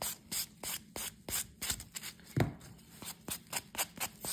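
A small pink and mauve buffing block rubs back and forth over a gel nail, making quick, regular dry scratching strokes, close and soft, with no talk.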